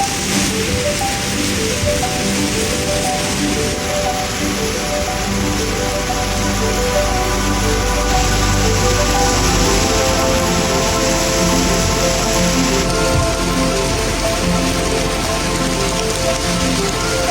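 Steady rain falls at a boatyard, a constant loud wash of drops hitting surfaces with no break across the whole stretch.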